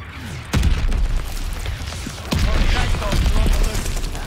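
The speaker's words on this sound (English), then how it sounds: "How did he survive the mortar barrage, bro?" A video game mortar barrage brings heavy booming explosions: a sharp loud impact, then another a couple of seconds later, with rumbling debris and scattered pops between, while players talk underneath.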